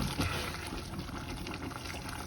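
Water pours steadily into a pan of simmering minced meat sauce for Greek spaghetti with minced meat, a continuous close splashing gush with no talk.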